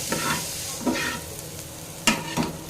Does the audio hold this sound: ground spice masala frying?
yes